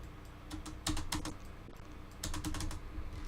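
Keys on an old-style computer keyboard tapped in two short bursts of several quick, crisp clicks, close to the microphone, separated by a brief pause with no talking.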